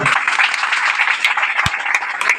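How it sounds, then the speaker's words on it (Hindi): A loud burst of audience clapping at a Safe Shop motivational training session, many hands beating fast and dense, with one sharp thump partway through and no break in the applause. "चलिए, जोरदार ताली बजाते हैं।"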